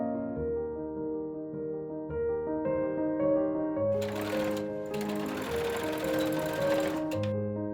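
A sewing machine stitches a corduroy camera bag: a close, rapid mechanical chatter that runs in bursts, pausing briefly between runs, with a louder rattling stretch near the end.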